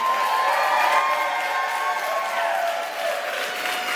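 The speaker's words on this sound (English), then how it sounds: "I want you guys to give a round of applause to the organizer of this event," Audience applause with some cheering at a live show in a church venue in Anchorage, Alaska: dense, steady clapping from a crowd, fairly loud and continuous, with a few whoops mixed in.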